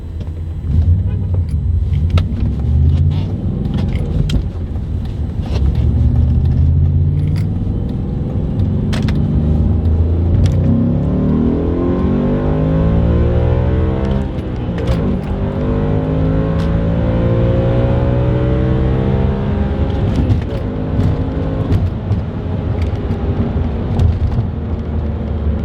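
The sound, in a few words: Audi B7 RS4 engine revving and high RPM shifting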